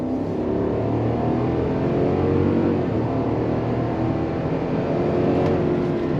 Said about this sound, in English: Nice smooth shifts from the 10-speed automatic, and it's got the rumble that you want.